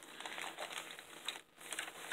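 Wax paper crinkles and rustles steadily for about two seconds while a junk journal is assembled, with a short pause partway through before the handling resumes.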